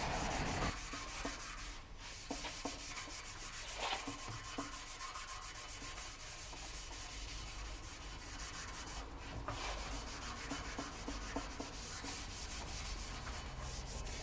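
Coarse 60 to 80 grit sandpaper worked against a car chassis end, a steady continuous rubbing and scraping that runs unbroken throughout, close and fairly loud, with no talking.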